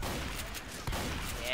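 Left 4 Dead 2 gunfire from a shotgun crackles in a brief, dense burst against a loud, busy game background.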